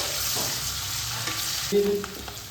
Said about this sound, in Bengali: পেঁয়াজটা একটু লাল লাল ভাজা হবে